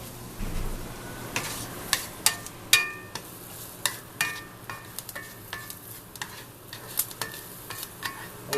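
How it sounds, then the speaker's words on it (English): Onions frying and caramelizing in a pan on a stovetop give a soft steady sizzle, broken by irregular louder clicks and scrapes as a utensil stirs them, close up with no talking. "Those onions are starting to sweat and caramelize."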